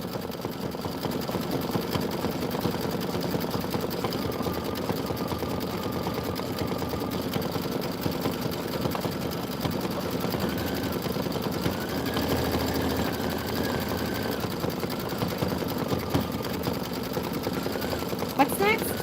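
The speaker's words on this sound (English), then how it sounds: "I'm going to keep stitching." A sewing and embroidery machine stitches a Kimberbell Enchanted Winter design, a steady mechanical hum and rattle running throughout at moderate level, with a person talking over it.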